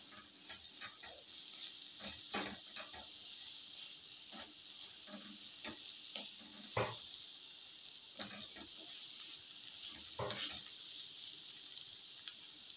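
Chighal greens with moth bean dal sauté in a pan over medium heat, giving a soft, low sizzle broken by repeated scraping and clinking strokes from stirring.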